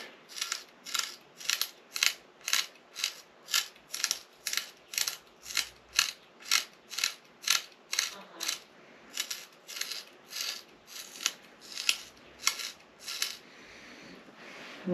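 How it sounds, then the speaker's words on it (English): Regular masking tape is pulled and handled while gluing fishing rod grips, making a steady run of short, crisp rips about twice a second for the whole stretch, close up and with no voices. "Just regular masking tape will work."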